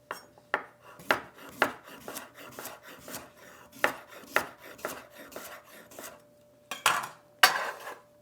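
Knife chops through celery and unpeeled organic carrots on a board, a close series of crisp, evenly spaced cuts with brief pauses, then a quick pair of final strokes, no talking.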